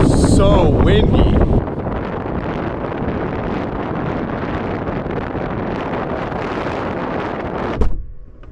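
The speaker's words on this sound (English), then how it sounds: "It is so windy." Strong wind buffets the microphone in a steady, roaring rush, with a brief louder gust and faint voices at the start.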